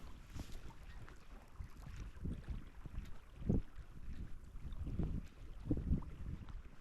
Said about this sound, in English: the wind again is right in my face